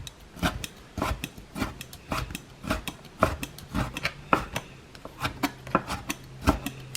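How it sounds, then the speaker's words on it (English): Ingredients for Lao-style pad Thai are chopped on a board with a knife, giving a steady run of sharp, close cutting taps, irregular but continuous, with no one talking. "They're a little too big, so you wanna chop them a little bit"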